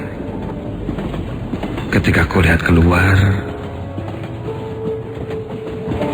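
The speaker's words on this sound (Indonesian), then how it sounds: "Kini kereta berjalan sangat pelan." A video game train slows down and rolls slowly along the rails with a low rumble and faint clatter, while a voice speaks over it.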